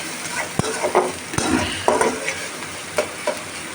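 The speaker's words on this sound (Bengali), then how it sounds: "এই যে কড়াইতে পেঁয়াজ দিয়ে ভেজে নিচ্ছি।" Onions fry in a wok over a soft, steady sizzle, broken by repeated sharp scrapes and clacks of a stirring spoon. No one speaks.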